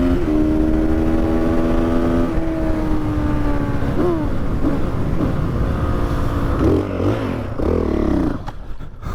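A Honda CRF 450 supermoto motorcycle engine revs hard through the gears, its pitch climbing and dropping with each shift, loud and close throughout with a rougher burst near the end.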